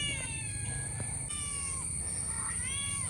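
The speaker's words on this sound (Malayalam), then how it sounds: "കണ്ടില്ലേ, ചെറിയ ഒരു പൂച്ചക്കുട്ടിയാണ്, വളർത്തുന്ന പൂച്ചയാണ്" A small pet kitten, fallen into a disused well, meows several times in thin, high, rising cries, close by, over a steady high-pitched background whine.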